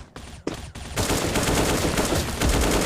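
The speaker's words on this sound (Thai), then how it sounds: "ผมก็ จะ ประมาณยิงประมาณอ่า 3ถึง4นัดนะครับ สำหรับ AK นะ" An AK-47 firing in a video game: a few sharp, separated shots, then a loud, continuous rapid burst of gunfire.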